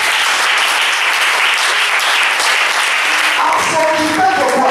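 A church congregation applauds and cheers in acclaim of Jesus, steady dense clapping throughout, with raised voices and a few whoops rising near the end.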